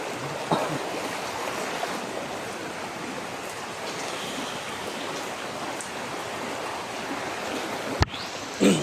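Steady rushing flood water flows continuously toward a house, a broad wash of noise with a brief knock near the end.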